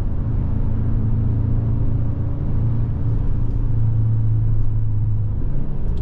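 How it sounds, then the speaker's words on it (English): Exhaust note from the tailpipe of a 2023 Hyundai Sonata N-Line while driving through sweeping curves, a steady low rumble with a faint droning hum, heard from inside the car with no talk. "I'm getting the sound, I believe, from the tailpipe, and it's all right, it's not bad."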